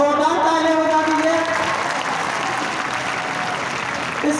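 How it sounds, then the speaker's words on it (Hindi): A crowd applauds at a government senior secondary school's annual function in Devan, Shahpura, Jaipur, producing loud, steady, sustained clapping that fills the hall throughout. "एक बार लड़कियों के लिए बहुत जोरदार तालियां बजा दीजिए।"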